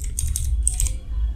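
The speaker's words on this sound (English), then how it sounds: "after that press enter from your keyboard." Keys on a computer keyboard clatter in two quick close bursts, ending with a firmer press of the Enter key, with no voices.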